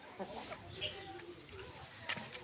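A White Knight hen gives faint, brief clucks at close range, with a voice speaking over them.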